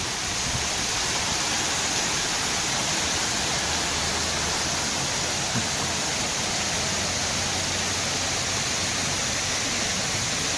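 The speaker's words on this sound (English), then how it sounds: "Lots of rivers, waterfalls." Water at a zoo's river area pours in a steady, broadband rush, likely a waterfall close by, continuous and unchanging with a faint low hum beneath it and no talking.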